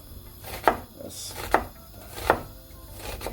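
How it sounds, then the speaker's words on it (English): Three crisp, evenly spaced knife chops on a board while onion and garlic are cut, each sharp thunk clear and close against a quiet kitchen background. "so cut my garlic down, my onion"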